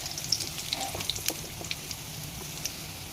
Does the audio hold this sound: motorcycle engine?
no